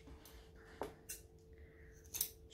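Sharp scissors snip through zipper tape during a sewing project, giving a few quick, quiet metallic cuts spaced apart in a hushed room.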